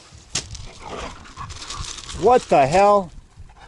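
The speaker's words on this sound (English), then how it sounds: "Dogs have escaped." Dogs loose after escaping through a gate give a couple of loud, close, whining yelps and barks near the end, while someone talks nearby.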